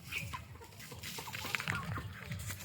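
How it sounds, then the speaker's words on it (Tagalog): Chickens clucking at close range on a small rural homestead, short irregular calls over a busy farmyard background with some voices. "Manok."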